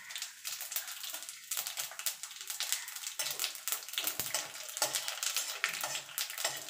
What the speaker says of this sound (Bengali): এখানে খানিকটা জিরে আমি ভেজে তুলে নেব।